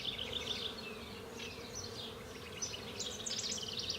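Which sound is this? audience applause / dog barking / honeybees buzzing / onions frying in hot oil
honeybees buzzing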